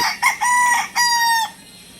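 A bulik gamecock rooster crows close and loud, one full cock-a-doodle-doo in two bright rising-then-held bursts, ending abruptly with quiet afterward and no talk.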